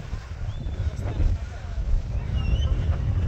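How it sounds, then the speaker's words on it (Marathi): Strong monsoon wind on the Anjaneri mountain trek buffets the microphone as a low, gusty rumble that swells midway, with people talking over it. "फार वार येतोय"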